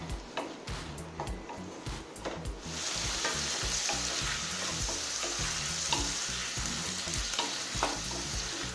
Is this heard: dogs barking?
no